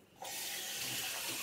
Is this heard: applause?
no